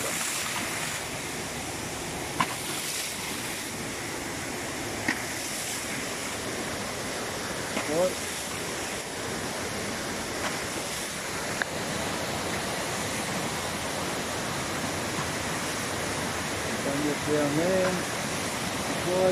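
A Bunyip PA13 ram pump in North Queensland, Australia, runs on water fed from a supply pipe: a steady, broad rushing of water that continues throughout, with a few faint knocks and no clear speech.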